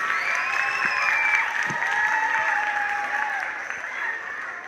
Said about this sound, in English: Again, nice round of applause for Cecilia Benitez.